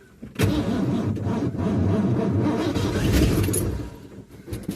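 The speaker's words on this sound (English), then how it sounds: "Got it back started and it put it in gear and it quit." A car engine cranks and fires, runs roughly for a few seconds as it is put in gear with a troublesome clutch, then dies out, heard close with no talking.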